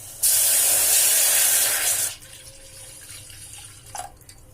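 Sour buttermilk pouring into a pot for masala ganji, a loud steady splashing pour for about two seconds that stops abruptly, followed by faint clinks and quiet kitchen sounds.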